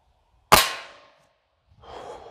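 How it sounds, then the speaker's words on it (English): A single sharp crack from a Gamo Magnum .22 air rifle firing at a tin, close and fairly loud with a short ringing decay, followed by faint rustling. "let's go ahead and shoot that tin"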